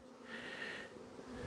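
Honeybees flying around freshly made-up nucleus colony hives on a good flight day, a steady buzzing swarm drone close by with no talk.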